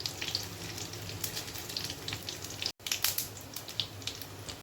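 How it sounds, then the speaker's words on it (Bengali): In a pan of hot oil, dried chillies, cloves and bay leaves sizzle, a close, steady crackling hiss with scattered sharp pops and a momentary break partway through. "শুকনো লঙ্কা, একটু লবঙ্গ দিয়েছি, দুটো তেজপাতা"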